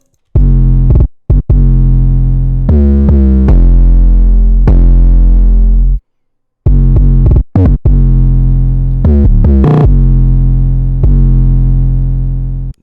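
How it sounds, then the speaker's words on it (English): Heavy, distorted 808 bass plays a bouncing pattern of long and short notes with gaps and quick pitch shifts, loud and alone. "during the verses, I added this other 808 pattern,"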